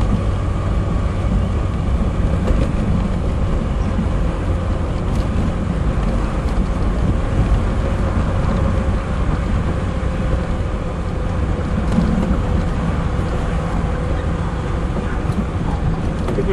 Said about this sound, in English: Yeah, it's straight through exhaust.